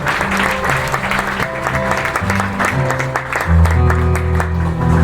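Audience applause at a graduation ceremony, a dense, continuous clapping crowd that swells toward the end, with tonal music sounding underneath.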